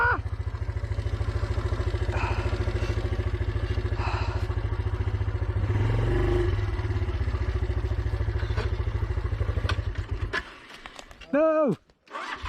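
A 4-stroke 125 enduro motorcycle on road tyres, its throttle sticking, holds a loud steady engine drone that runs close for about ten seconds, then cuts out abruptly, followed by shouting voices.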